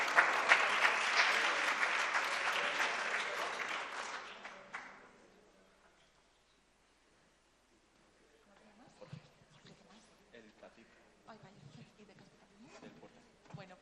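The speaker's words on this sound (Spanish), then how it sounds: "Un fuerte aplauso." Audience applause at a hospital staff award event, a dense round of clapping for roughly four to five seconds that fades out, followed by quieter room noise and faint voices.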